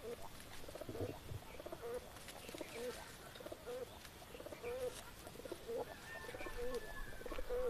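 Pigeons cooing in a loft, a repeated soft throaty coo roughly once per second, close and clear over a quiet background with faint rustling.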